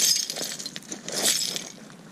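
Broken glass debris clinking and scraping as dirt is dug through, a run of bright, brittle chinks and crunches, close and fairly loud, with no voices.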